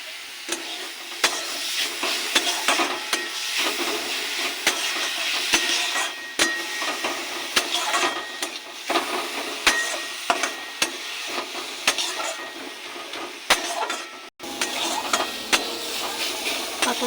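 Steamed mustard greens fry in a pan with garlic, green chilies, salt and turmeric, giving a steady soft sizzle broken by regular sharp taps and scrapes of a spatula against the pan.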